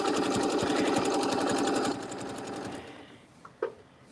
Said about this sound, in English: Pull this like 90 degree angle and do about 3 little stitches.